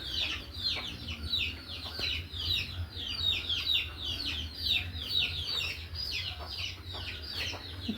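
Many small one-and-a-half-month-old chicks and ducklings peep continuously in shrill, overlapping chirps, a busy close chorus over a low background hum.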